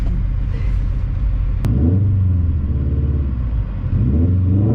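Loud exhaust rumble from a 2018 Subaru STI as it accelerates, a low steady drone building with a sharp click partway through and the revs rising again near the end, heard from inside the car.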